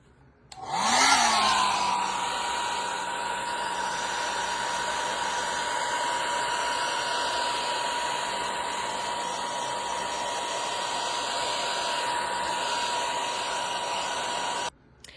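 A hair dryer switches on and blows steadily to dry the first stage of a watercolor pumpkin painting, a loud continuous whine and rush of air held close for about fourteen seconds before cutting off.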